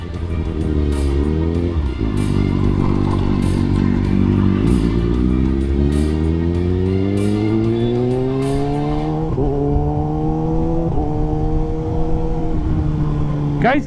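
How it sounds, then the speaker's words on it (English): A Kawasaki ZX-10R superbike with a Race Fit Growler exhaust is revved hard, its loud engine note climbing through rising sweeps and dropping back, close by. The engine roar runs continuously with no speech over it. "except for the exhaust, जो कि है रेस फिट का ग्राउलर एग्जॉस्ट लगा हुआ है"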